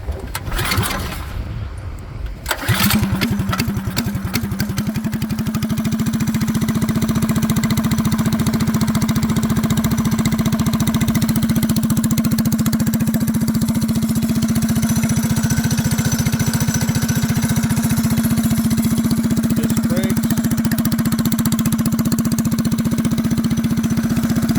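Tillotson 212 engine on a vintage-style go-kart kit pulled to life after a couple of rattling attempts, then settling into a steady, loud, buzzing single-cylinder idle held up close for twenty seconds.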